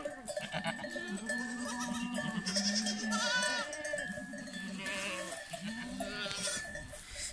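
Goats bleating on a farm as mothers rejoin their kids, several overlapping wavering calls near and far over a constant background hum, with a cowbell-like clank.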